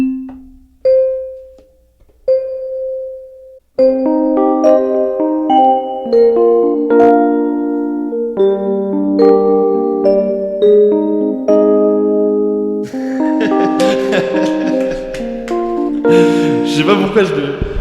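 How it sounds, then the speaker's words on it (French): Small, delicate fairy-like bells chime in a music track, first as a few isolated tinkling notes, then layered into a bright melodic pattern that builds into a fuller, busier arrangement. "Je sais pas pourquoi je le sentais, ce truc de petites cloches là."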